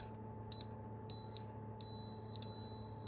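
A continuity tester probing circuit board tracks on a GPZ-7000 metal detector with an intermittent fault gives short, high electronic beeps, a few brief chirps then longer steady tones, over a constant low electrical hum.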